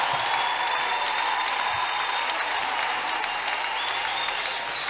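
A church congregation at a Tuesday mass prayer gathering bursts into sustained, loud applause and acclamation for the Lord, the dense clapping steady and continuous throughout with a crowd wash behind it.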